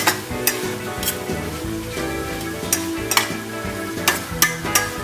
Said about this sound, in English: we want the onions to caramelize, and we want the sausage to get just that little bit of brown